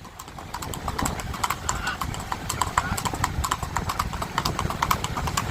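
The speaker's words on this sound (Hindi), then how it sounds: "क्या चाल है घोड़े की।" A horse's hooves clip-clop in a quick, steady rhythm close by while someone talks over it, at a Sindhi horse show in Anjar, Kutch, with faint engine idle in the background.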